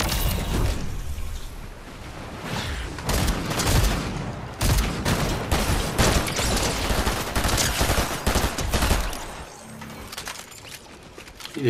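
Cerberus shotgun blasts in the Fortnite video game, a rapid series of loud, sharp gunshots fired in close bursts with brief gaps, dropping to quieter game ambience near the end.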